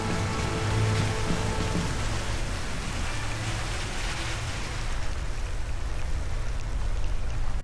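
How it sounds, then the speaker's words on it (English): A monsoon hail storm in Arizona near Crown King pours down in a steady, dense roar of pelting ice and rain, loud and continuous without a break, with no voices. "The hail is everywhere."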